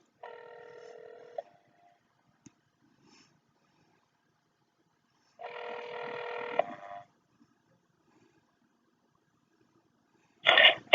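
Telephone keypad tones and ringing on a call to a police internal affairs office, heard as a short tone burst, a longer ring, then a loud brief burst near the end, separated by silence.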